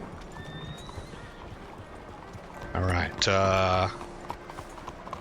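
Horse hooves clip-clopping in the Red Dead Redemption 2 video game, a steady soft patter of hoofbeats under game ambience, followed by a loud whinny near the middle, with someone speaking briefly.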